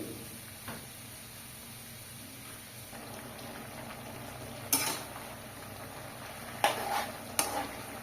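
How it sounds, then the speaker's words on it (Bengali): Pipuli greens with potato, tempered with radhuni seeds, cook in a pan with a steady low sizzle and stirring scrapes, a few sharp utensil clinks against the pan standing out near the end. "আমি এই পিপুলি শাকটা রান্না করছি।"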